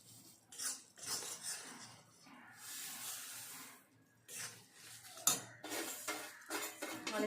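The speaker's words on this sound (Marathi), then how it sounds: "आणि तीळ घातल्यानंतर पटकन मिक्स करून घ्यायचे. गरम गरमच मिक्स करायचं आहे पटकन" Sesame seeds being stirred quickly into hot jaggery syrup in a pan, a steady run of scraping and clinking of spoon against metal in near-continuous bursts, close up, with no talking.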